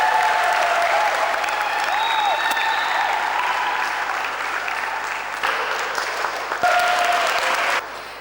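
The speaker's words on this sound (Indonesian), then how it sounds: "Beli tepuk tangannya." Audience applause for a singer at a campus show: dense, steady clapping from a crowd, loud and sustained throughout, with brief music or voice tones rising over it.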